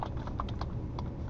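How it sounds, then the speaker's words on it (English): Quick bursts of keystrokes on a computer keyboard as a command is entered, a short run of close, light, irregular clicks with small pauses between them. "I go directly into typing in material"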